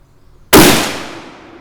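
A single loud, close rifle shot from a 35 Remington rimmed load, with a sharp onset and a decaying tail, after near silence.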